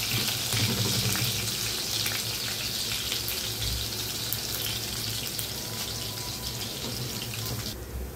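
Garlic sautés in a pan for a wild leafy vegetable dish, a loud, steady close-up sizzle with crackling pops that runs throughout with no talk.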